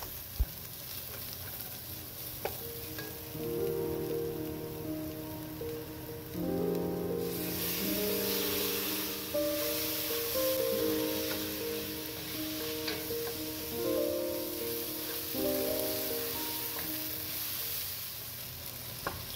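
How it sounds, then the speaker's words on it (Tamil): Tomatoes are sautéed with masala in a pan for a chayote kurma, giving a steady close sizzle with light stirring under soft background music. "அதுக்கப்புறமா நம்ம தக்காளியை சேர்த்து நல்லா வதக்கலாம்."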